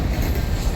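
A massive freight train hauled by four SCT locomotives rolls through the Tailem Bend loop, a loud, close, continuous low rumble of engines and wheels.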